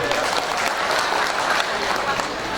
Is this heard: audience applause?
yes